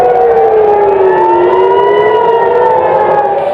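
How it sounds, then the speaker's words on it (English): A loud air raid siren in Israel wails continuously, warning people to take cover in bomb shelters, its pitch slowly dipping and rising again in a long, steady howl. "Air raid sirens blast as people in Israel are warned to take cover in bomb shelters"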